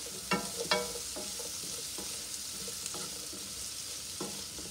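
Squash sizzles and fries in a pan with salt and pepper, a steady hiss under a few sharp scrapes of a utensil stirring it, close and alone.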